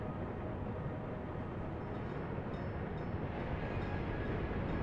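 Trains rumble through a city in a transit-building video game, making a steady, dense low roar that continues without a break and has no clear individual events.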